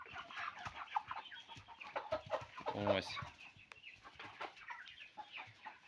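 Cobb 500 broiler chickens on fresh bedding cluck and squawk nearby in a busy, irregular chorus, with one louder burst of calls in the middle; a voice briefly speaks.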